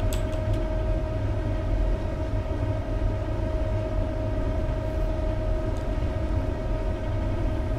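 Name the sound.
Class 390 train running in Train Simulator video game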